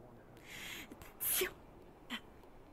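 A single sharp sneeze bursts out outdoors in the cold, loud and close, set between faint breathy sounds and a brief gasp-like noise in a quiet background.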